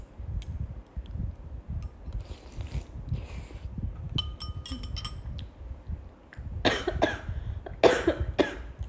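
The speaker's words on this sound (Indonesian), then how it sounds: "Kalian doain aku batuk ya." Coughing from a young woman during a live-streamed showroom chat, a few harsh bursts around the middle and a stronger cluster near the end over a low background hum.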